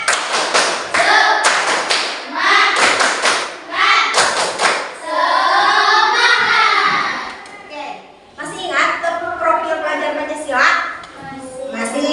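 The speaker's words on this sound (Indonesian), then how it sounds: "tepuk semangat" Schoolchildren in a classroom clap a patterned spirit clap together, bursts of clapping alternating with chanted words and a teacher's voice, loud and close.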